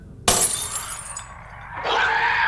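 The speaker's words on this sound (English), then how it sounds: "Oh, you're gonna walk through the glass you threw?" Glass thrown in a television drama scene shatters with a sudden loud crash, followed by a scattering tinkle of shards and a second burst of crunching glass as someone walks through it.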